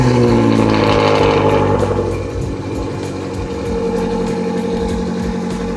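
A BMW car engine runs steadily at a BMW fest in Rustavi, a loud close idle with a low throb that eases slightly and then holds, alone without talk.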